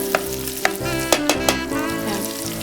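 Fat and meat sizzle steadily in a hot pan on a gas stove, with a few sharp clicks and scrapes of stirring over the continuous frying hiss.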